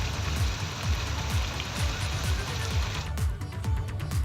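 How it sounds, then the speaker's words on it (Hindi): Continuous rain in Uttarakhand, a dense, even hiss of drops on surfaces with a low rushing undertone and no break in the rain. "लगातार बारिश हो रही है"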